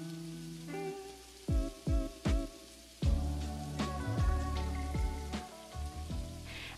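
Shrimp hit a hot pan and crackle, a soft sizzle punctuated by sharp pops and taps as pieces are spread into a single layer, close by and fairly quiet.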